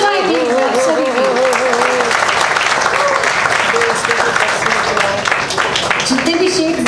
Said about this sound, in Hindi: तालियां हो जाएगी सभी की